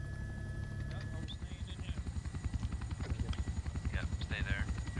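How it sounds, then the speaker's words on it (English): Helicopters in a Vietnam War video game, a loud rhythmic rotor thump that grows steadier and more pronounced, with game effects and a voice talking over the chopping. "They shouldn't have this many helicopters."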